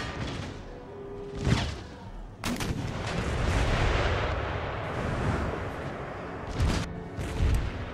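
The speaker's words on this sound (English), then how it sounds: "Check my artillery is shooting." Artillery fires in an Empire Total War battle with a World War One setting: loud booming shots at irregular intervals, one heavy blast followed by a long rumbling roar, then several more reports near the end.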